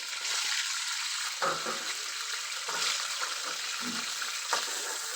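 Tomato frying in hot oil for a homemade chilapi fish curry, a bright continuous sizzle broken by several spatula stirs, close and fairly loud.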